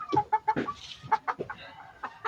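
Chickens cluck repeatedly in short, uneven bursts nearby, a busy chorus of clucks with no talking.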